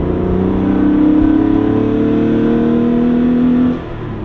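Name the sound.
Porsche engine revving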